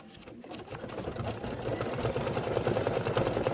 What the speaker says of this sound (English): it's going to stitch the cherry stem detail